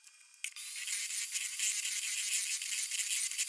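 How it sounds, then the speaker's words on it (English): An electric hand mixer creams butter and sugar for banana bread, switching on after a brief click and then buzzing loudly and steadily with a slightly fluttering whir. "we're going to cream together our butter and sugar"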